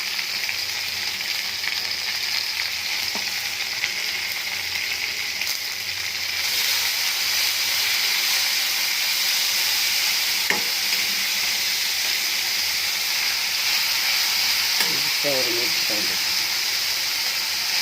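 Beans, carrots, tomato, capsicum, onion and garlic fry in a pan with pepper, salt and ghee, giving a loud, continuous close-up sizzle and hiss, with a few faint clinks of stirring and brief talk.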